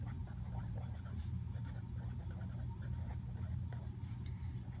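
Pen writing numbers by hand on paper while working a math problem with mixed numbers, a steady soft scratching that runs continuously at close range with no talk.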